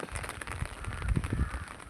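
Steady rain falling on a rooftop terrace garden, a dense continuous patter of drops with occasional heavier close taps and crackles, no voices.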